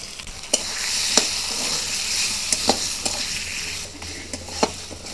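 Hilsa fish head sizzling and frying in a pan with taro, with a steady bright hiss broken by sharp scrapes and clinks as it is stirred, close and clear.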